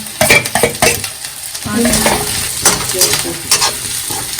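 Green chillies hit a pan of browned onions frying for a pumpkin sabzi, a loud close sizzle with scraping stirs and clatter from a spoon.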